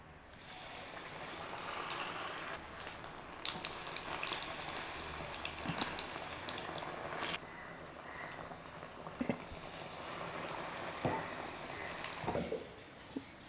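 Battered manioc pieces frying in oil make a soft, continuous bubbling sizzle with occasional louder crackles and clinks, moderately quiet and close.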